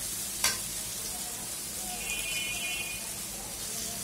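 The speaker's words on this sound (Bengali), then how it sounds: "দেখো তো এই তেলটার মধ্যে মশলাটার মধ্যে এটা ভাজা ভাজা হবে" Spices frying in oil for a curry, a low steady sizzle with a single sharp clink near the start and a faint high tone partway through. The sound is quiet and continuous with no talk over it.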